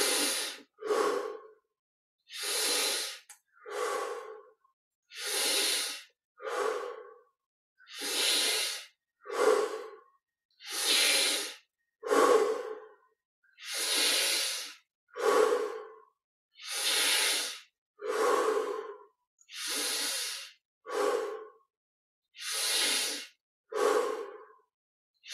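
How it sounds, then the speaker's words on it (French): Deep yoga breathing, a steady series of long, loud, hissing inhales and exhales in a regular rhythm, close to the ear with silent pauses between breaths and no talk. "On ouvre la poitrine et on observe ces 20 respirations profondes."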